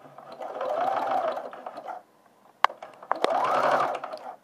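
A sewing machine stitches narrow elastic, buzzing in two fast whirring runs separated by a short pause with a couple of sharp clicks, close and loud with no talking.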